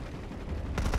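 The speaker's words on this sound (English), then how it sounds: "They're shooting the debris." Gunfire in the online shooter PlanetSide 2: dense, rapid shots at close range, forming a continuous rattle over one second that grows louder toward the end.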